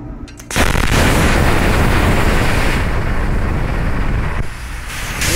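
An Arccaptain CUT55 Pro 55-amp plasma cutter slicing through steel a little over an inch thick gives a loud, steady hissing roar that starts abruptly and holds for several seconds, dipping briefly near the end.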